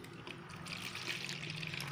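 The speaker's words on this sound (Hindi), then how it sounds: "स्वाद अनुसार हम शुगर सिरप डालेंगे इसमें" A steady, soft trickle of sugar syrup pouring continuously into a glass, close by and fairly quiet, with no talking.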